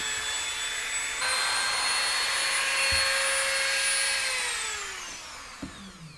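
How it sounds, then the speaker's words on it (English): A Dremel rotary tool fitted with a small grinding bit, enlarging a hole in plastic: a high-pitched motor whine that rises in pitch as it spins up, holds steady, then winds down, with faint bumps as the bit touches the plastic. "So I'm just going to use this little grinding bit here."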